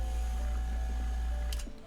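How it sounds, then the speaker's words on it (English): A vacuum pump fitted with a homemade water trap hums loudly and steadily as it draws water through, with a brief hissing rush near the end. "We fit this onto the vacuum pump"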